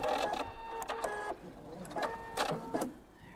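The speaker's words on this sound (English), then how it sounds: "I'm going to stop right about there and do my back stitch." A sewing machine runs in short start-stop bursts while doing a back stitch, mechanical whirring broken by brief pauses, close and fairly clear.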